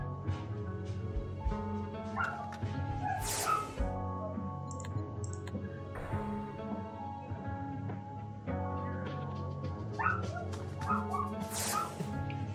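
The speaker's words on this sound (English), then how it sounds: "Excuse that dog barking in the background." A dog barks and yips repeatedly in the background, small-sounding and insistent, over steady room noise with clicking from a game being played, with no talk in between.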